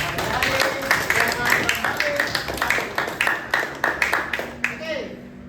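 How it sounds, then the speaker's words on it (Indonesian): A classroom of students claps in a steady, regular rhythm during a religious lesson, each sharp clap evenly spaced and fairly close, with voices mixed in underneath. "tepuk tangan dulu untuk kita semua"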